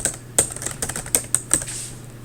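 Fingers tap out words on a computer keyboard in an irregular run of sharp, close keystrokes with short gaps between them and no speech.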